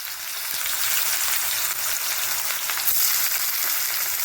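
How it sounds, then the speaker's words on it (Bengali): Chopped onions fry in hot salted oil for vegetable chow mein, a loud, steady, close sizzle that crackles continuously with no voices. "দিয়ে এবার এই তেলের মধ্যে আমরা এই কুচো করা পেঁয়াজগুলোকে ভেজে নেব"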